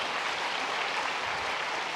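A congregation gives a Sunday church service a big round of steady applause as young members present a flower basket to an elder. The clapping is dense and continuous throughout, with no talking.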